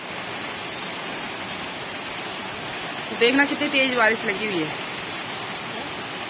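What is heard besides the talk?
heavy rain falling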